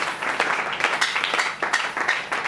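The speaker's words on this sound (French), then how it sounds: "Acclamons pour la gloire d'Éternel notre Seigneur" A church congregation claps in rapid, uneven bursts, a lively round of applause heard close and fairly loud throughout.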